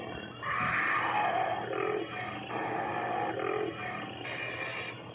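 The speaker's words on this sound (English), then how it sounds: "This is Yoda's home planet, Dagobah. You can hear all the things in the background." Dagobah swamp-planet ambience from a movie-themed lightsaber sound font: low creature growls and roaring calls drift over a steady, murky background bed, fairly quiet and continuous with no voices.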